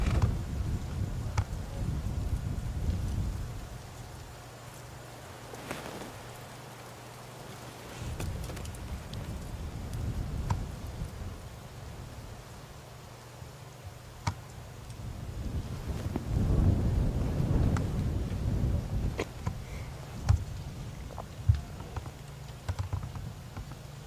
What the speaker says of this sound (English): the strong wind's going to just aid him